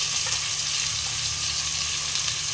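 Boiled potatoes dropped into hot oil left from frying pointed gourd hiss and sizzle in a steady, dense, close-up crackle that keeps an even level throughout.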